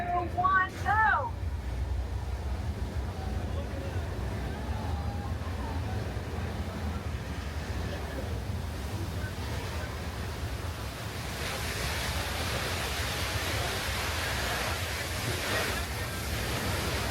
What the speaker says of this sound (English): let's start our water effect in 3, 2, 1, go.